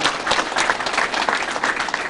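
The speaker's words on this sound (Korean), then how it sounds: "박수 한번 부탁드립니다." An audience at a school building's completion ceremony applauding steadily, a dense even patter of many hands at moderate distance, with no voices over it.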